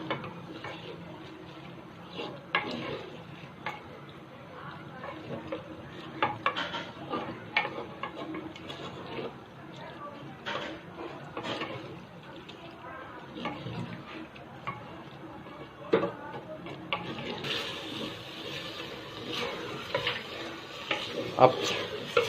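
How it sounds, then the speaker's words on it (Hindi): Beef qeema being stir-fried on high heat in a pan, with steady sizzling and frequent scraping and stirring clatter from a utensil over the whole stretch, close and moderately loud. "अब हम इसको तेज़ आंच पे भूनेंगे।"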